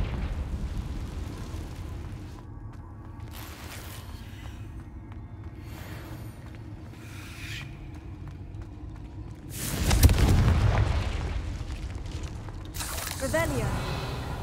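A Confringo fire spell explodes in Hogwarts Legacy: one loud, broad fiery blast bursts out about two-thirds of the way through, rising above a steady bed of game ambience and scattered softer effects.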